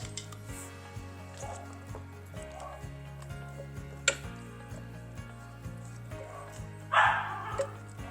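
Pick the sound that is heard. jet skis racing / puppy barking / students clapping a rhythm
puppy barking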